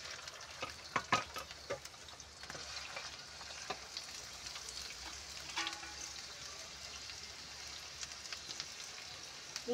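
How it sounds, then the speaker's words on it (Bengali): Onions fry in oil in a wok, meant as a biryani topping: a soft, low sizzle with scattered crackles and a few clinks from a stirring utensil, fairly quiet overall. "বিরিয়ানির উপরে পেঁয়াজ ভেজে দেওয়ার জন্য পেঁয়াজটা ভেজে নেব। কড়াইতে তেল দিয়ে দিচ্ছি।"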